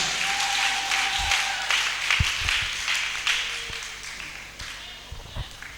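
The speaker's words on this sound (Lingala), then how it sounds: "On peut applaudir, il faut l'encourager." Audience applauding at an evening gathering where a speaker is handed the floor, a steady wash of clapping with a few louder claps near the front, faint voices mixed in.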